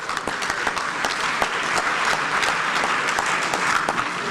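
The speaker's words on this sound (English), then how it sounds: "Please, with a round of applause, make welcome the Chief of Staff of the Republic, the Honorable Dr. Julius Debra." Steady applause from a crowd, dense and loud, clapping continuously throughout.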